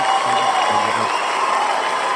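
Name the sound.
audience applause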